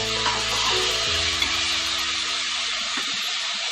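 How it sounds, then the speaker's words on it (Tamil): Sliced tomatoes and onions sauté in a pan for a bean and dried-fish kulambu, giving a steady, loud, close sizzle and hiss throughout, with a brief stir or clatter near the end. "இப்போ நான் கட் பண்ணி வச்சுருக்கேன் மூணு தக்காளியை ஆட் பண்ண போகிறேன். இதை போட்டுட்டு நம்ம நல்லா வதக்கி எடுத்துக்கலாம்."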